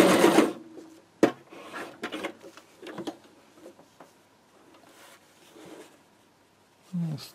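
A sewing machine running a large straight stitch whirs quietly in short intermittent runs, with soft clicks and pauses in between.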